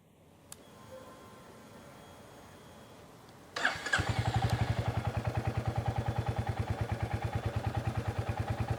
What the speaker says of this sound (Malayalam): ഇതാണ് ഐഡ്ലിംഗ് സൗണ്ട്